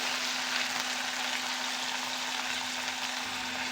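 Tomato sautéed in a pan for beans bhaji makes a steady, even sizzle of moderate loudness, close and continuous, with a faint constant hum beneath it and no talking.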